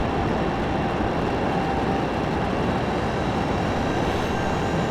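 Steady, loud broadband roar of an aircraft engine at full thrust with afterburners lit, heard continuously from close by inside or near the jet during departure, with no talking.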